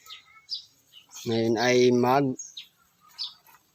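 Young racing pigeons give brief, faint high peeps before and after someone speaks over them, with the short calls scattered at a modest distance.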